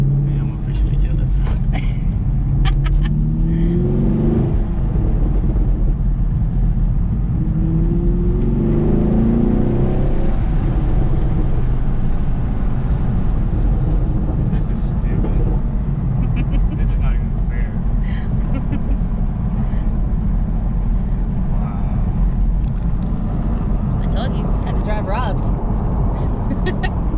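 A Chevrolet Camaro SS 1LE engine drones loudly and continuously from inside the car as it accelerates through revs, with people talking over the steady roar.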